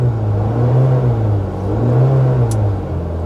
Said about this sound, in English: We're in sport mode, and you can tell by the exhaust sounds,